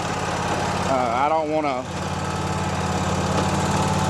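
A lawn mower engine drones steadily and loudly while cutting a fescue lawn set at 2.5 inches, with someone talking briefly over the constant running.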